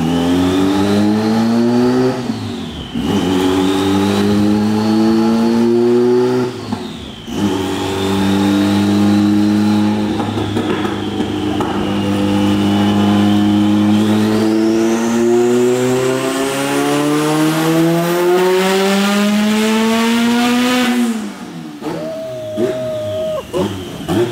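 A turbocharged all-wheel-drive Honda Civic on a two-wheel-drive dyno revs loudly and continuously, pitch climbing and falling through several long pulls, with brief drops between them; strong, close and unbroken.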